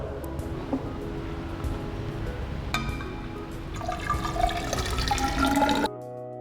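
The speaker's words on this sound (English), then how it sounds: "We now fill this measuring cylinder with water." Tap water filling a 500 ml measuring cylinder, a close steady gushing stream whose pitch rises as the vessel fills, ending abruptly when the flow stops.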